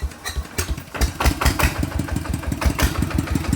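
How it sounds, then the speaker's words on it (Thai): A Kubota ET110 diesel engine, upgraded to a 120 DI, is started and settles into a steady, loud, thumping run with a regular fast beat. "เดี๋ยวติดฟังเสียงก่อนแป๊บหนึ่งนะครับ"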